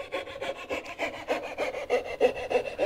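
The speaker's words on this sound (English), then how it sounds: "As you start sawing, turn." A hand saw cuts a dovetail in wood with quick, even back-and-forth strokes, close and fairly quiet, with nothing else heard.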